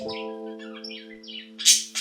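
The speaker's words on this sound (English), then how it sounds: "birds you're hearing are my parakeets right off the camera" Pet parakeets indoors squawking and chirping close by, sharp bright calls over a steady tonal hum, ending in a loud harsh squawk.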